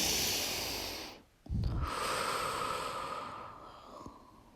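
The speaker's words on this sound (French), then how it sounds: "je vous propose de prendre 3 grandes respirations" Slow, deep human breaths: a long airy inhale, a short pause, then a strong exhale with a low snort-like rush of air, close and alone in a quiet room.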